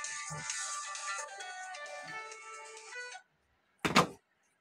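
A phone ringtone for an incoming call plays as a steady melodic tone for about three seconds, then cuts off, followed by a short loud knock or thump near the end.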